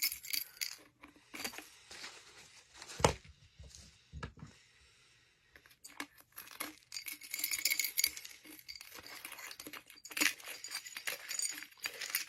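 Brittle light bulb glass cracking and crunching in irregular bursts, with small tinkling clinks and scraping between quiet gaps, close up.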